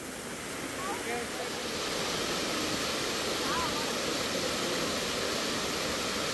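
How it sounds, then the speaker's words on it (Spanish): A waterfall on a trail in East Java, heard while climbing down beside it toward a larger fall, sends up a steady, full roar of rushing water that stays constant throughout, with some wind buffeting the microphone. "esta es la parte donde tenemos que bajar por una cascada para llegar a la gran cascada"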